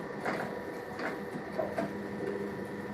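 Shoe being stitched on a sewing machine, with short bursts of mechanical whirring repeating at roughly even intervals against a steady hum, close and moderately loud, no talking.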